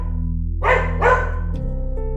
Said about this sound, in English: dog started barking now. Loud.